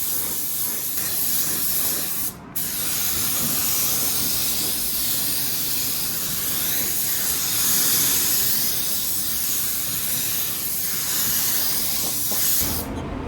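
A spray gun lays matte clear coat over car paint in a steady, loud, close hiss that runs almost unbroken, pausing briefly once between passes before trailing off at the end.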